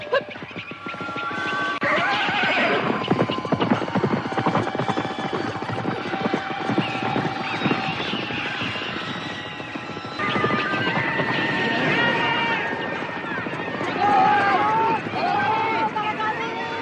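Sound effects for a radio drama: horses whinny repeatedly and hooves clop over a dense, busy bed of effects, with voices and babble mixed in throughout.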